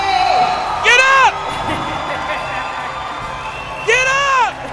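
A live audience at a Nigerian acting talent show cheers and whoops for a contestant named Anthony, two short loud bursts of shouting over a steady crowd murmur, with a host's voice in between.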